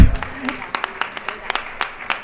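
A small audience at a presentation event gives a brief round of scattered, uneven claps, close and fairly loud, with no music behind it.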